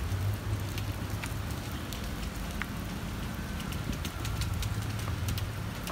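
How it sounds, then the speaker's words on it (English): Steady rain pattering on surfaces in Fukuoka, Japan, a continuous dense hiss with scattered drops, no voices, and a faint low hum underneath. "It's raining."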